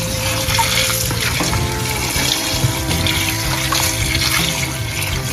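Artichokes being washed under a running kitchen tap in Sicily: a loud, continuous rush of water splashing over the vegetables with shifting gurgles as they are turned in the stream, close and steady throughout.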